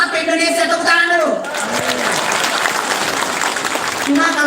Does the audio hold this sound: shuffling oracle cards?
no